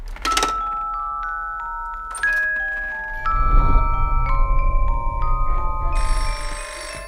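A telephone rings with bright electronic tones inside the video game Underhell, a sequence of sustained pitched beeps stepping up and down over a low droning hum, close and fairly loud with no talk.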